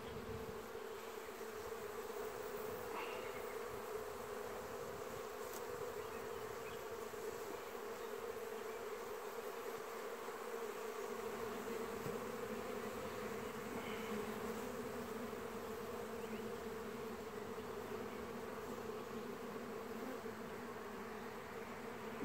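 Honeybees buzz around an opened hive during an inspection, a steady, dense drone with individual bees passing close now and then, quiet and continuous with no voices.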